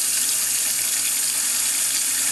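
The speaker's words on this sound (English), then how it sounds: "it's filling up with water" Tap water runs steadily into a filling sink, a loud, continuous splashing hiss that holds even throughout with no voices over it.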